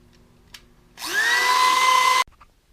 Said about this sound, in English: Now I'm just going to go in, hit it with the Dremel.